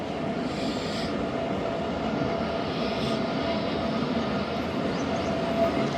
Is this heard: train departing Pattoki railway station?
yes